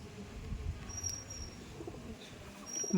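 Madrasi pigeons kept for tournament flying coo softly and intermittently nearby, a low murmuring broken by faint chirps and a brief rustle of movement.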